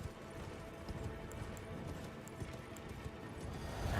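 Horse hooves clip-clop steadily in the video game Roadwarden, a dense continuous trot over a constant rumbling background, with no talk.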